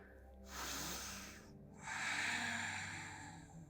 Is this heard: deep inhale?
yes